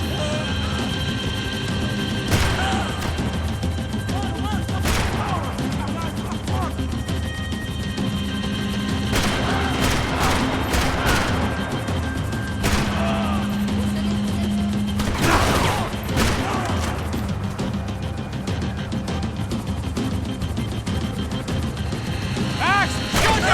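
Heavy gunfire during a Max Payne shootout in São Paulo, dense overlapping bursts with crashes and impacts, loud and continuous, with voices shouting over it.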